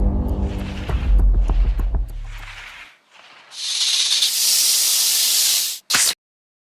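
Cobra at a termite mound giving off loud hisses: a few rumbling low bursts, then a long sustained sharp hiss and one final short burst, close and forceful.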